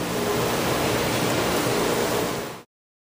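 Treated water gushes steadily from a boiler water line, a loud broadband rush that holds constant and then cuts off abruptly near the end.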